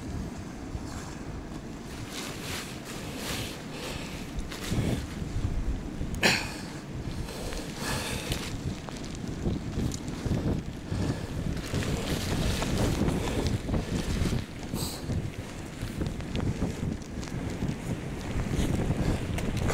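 Strong wind gusting against a four-season two-person tent and the microphone outdoors, a loud continuous roaring buffet with rising and falling gusts and occasional flaps throughout.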